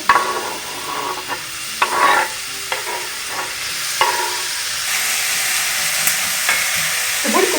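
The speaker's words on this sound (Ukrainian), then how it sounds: "Олія вже розігрілася, висипаємо цибулю." Chopped onion sizzles in hot oil in a frying pan, with a steady fry hiss broken by a few clinks and scrapes of stirring, close and alone with no talk.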